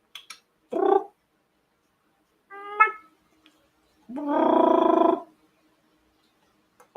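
A cat gives several separate meows and drawn-out yowling calls, close and clear, with quiet pauses between them.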